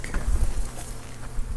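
Honey bees buzz in a continuous, close, low hum during a hive inspection, with faint flickers of individual wingbeats over the drone.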